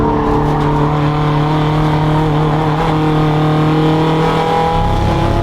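A race car engine on a flying qualifying lap, loud and close with a steady droning tone that holds and shifts slightly in pitch, ending with a lower rumble as the car slows for a corner.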